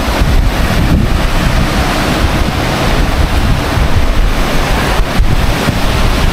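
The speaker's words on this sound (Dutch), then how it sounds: "En het is best wel wild met die golven ook." Rough ocean waves surging at a natural rock pool in Masca, Tenerife, forming a continuous, loud roar of surf with heavy wind buffeting over it and no voices.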